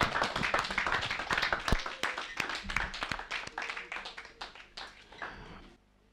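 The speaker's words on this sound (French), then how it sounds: "Acclamez, s'il vous plaît." A church congregation applauding: dense, close hand clapping that rises in bursts, then thins out and fades to near silence by the end.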